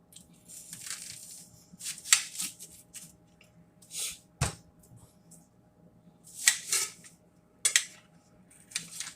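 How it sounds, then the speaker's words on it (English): A knife cutting an onion on a board in a home kitchen, giving sparse crisp slicing and crunching strokes with a sharp knock of the blade against the board, close and quiet over low background hum. "So right now, I'm about to cut an onion."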